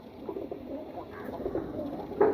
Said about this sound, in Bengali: এখন একটা জোড়া কবুতর দেখাবো